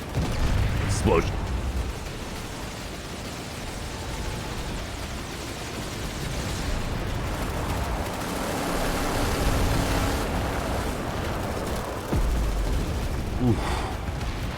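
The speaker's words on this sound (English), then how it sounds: "Explosion." Explosions and ongoing gunfire in a large Planetside 2 battle, a dense rumbling mix with sharp bursts near the start and end, heard beneath a commentator talking.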